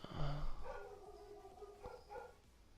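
A dog gives a quick run of close, sharp barks and yips, loud at first and trailing off into softer, higher calls.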